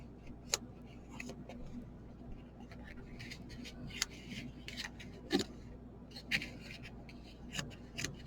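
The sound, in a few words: trimming off excess material with scissors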